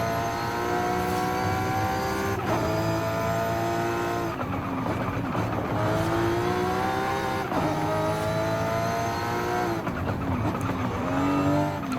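A modified 1300 HP Audi RS3 Sedan in Forza Horizon 5 revs and accelerates hard through repeated gear shifts, the engine note climbing and dropping in loud, continuous sweeps with brief breaks between pulls.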